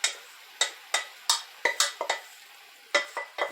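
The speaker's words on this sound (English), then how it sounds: "We're going to add our noodles to this." Dry macaroni noodles tipped and stirred into a Sloppy Joe skillet, giving a series of short scraping, clattering stir strokes in irregular bursts with pauses, close and fairly quiet, no talking.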